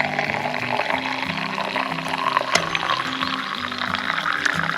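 Brewed tea pours steadily through a strainer into a thermos, a continuous close liquid gush and trickle with slight shifts in flow.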